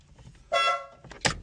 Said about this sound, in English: got a 27 millimeter nut, little impact action